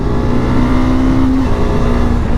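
A loud, close 2019 Cyclone RX3S twin-cylinder motorcycle engine running at a steady high rev, a constant throaty roar with a faint whine, no voices.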